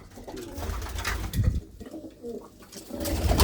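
Pet pigeons kept by a Punjabi pigeon fancier in Bhinder Kalan coo in low, throaty, repeated bursts at close range, with light background rustle and no speech.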